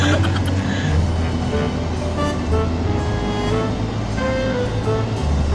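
Dense, heavy road traffic idling and creeping at a stop light, a continuous loud rumble of engines with passing vehicles, no clear pauses throughout.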